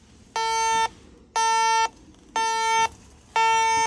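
A methane gas leak detector alarm sounds four evenly spaced, loud electronic beeps, each about half a second long, with no talking.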